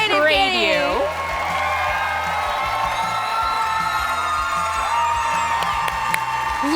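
Crowd at a cosplay contest cheering and whooping for the grand championship winner, loud and sustained, with an amplified announcer's voice booming over the applause.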